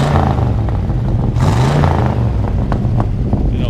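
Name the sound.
1972 Chevrolet C20 truck revving, true dual exhaust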